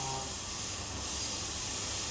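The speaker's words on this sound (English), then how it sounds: "The machine is currently processing the groove at the bottom of the product." CNC machine cutting a groove into the bottom of a stainless steel part, a steady broad hiss like spray or coolant, continuous and even with no breaks or voices.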